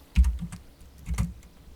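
A few quick clacks on a computer keyboard while entering a Minecraft command, two short clusters of keystrokes close up and quiet.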